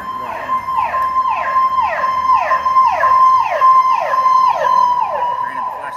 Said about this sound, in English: Hopefully I don't have to scream over all the sirens.